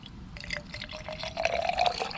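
Liquid being poured into an open engine cylinder on a 1967 Ford Mustang during cylinder head work, a steady thin trickle and fill that grows louder and brighter toward the end, close by with no talking.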